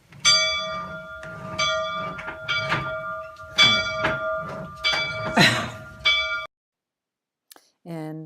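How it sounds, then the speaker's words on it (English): A church bell rings close overhead, struck repeatedly in a steady rhythm of loud, ringing strokes with long sustained tones, then falls silent before a brief, different tone at the end; a short spoken word is barely heard. "this is video looking up at the bell as best as I could show you"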